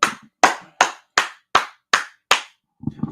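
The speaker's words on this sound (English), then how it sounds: "Hey, let's clap it up." Seven sharp, evenly spaced claps from a small group ring out loud and close, followed by a brief murmur of voices at the end.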